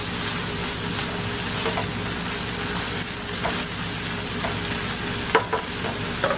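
Okra fries in a pan with a steady broad sizzle that runs throughout, broken by a few sharp scrapes and clicks as it is stirred; no one speaks.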